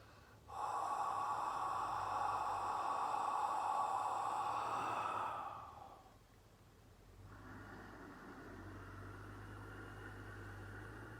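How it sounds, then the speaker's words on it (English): Slow deep breathing during ki-breathing exercise: a long, close, airy inhale or exhale lasting several seconds, a brief pause, then a softer sustained breath. "Inhale, exhale."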